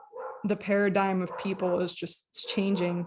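A dog barks repeatedly at a UPS delivery man arriving at the door, a run of sharp, close, loud barks and a yip overlapping a person talking.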